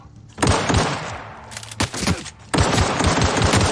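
Rapid automatic gunfire in the video game The Outer Worlds, dense bursts of loud shots in quick succession with a brief pause partway, close and forceful with no talk.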